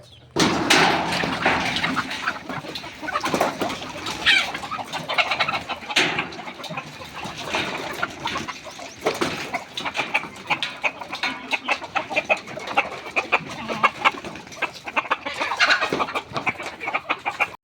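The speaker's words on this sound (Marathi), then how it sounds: "हे बघा कोंबड्या कशा प्रकारे चरताय" Several hens cluck and squawk continuously nearby as they forage, overlapping calls in an uneven rhythm with occasional louder squawks.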